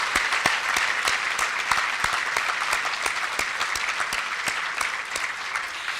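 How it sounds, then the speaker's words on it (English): A final round of applause at a benefit breakfast, sustained clapping from a roomful of guests with distinct individual claps standing out near the front, steady and fairly loud before tapering slightly at the end. "I'd like to invite you to join me in a final round of applause for all these tremendous speakers"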